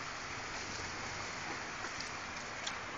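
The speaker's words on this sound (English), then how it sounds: "I'm sure it's going to rain for a little while longer" Rain falling steadily at an outdoor pumpkin patch during a thunderstorm with high winds, a dense even hiss of drops with faint spatters and no voices, constant at low-to-moderate level throughout.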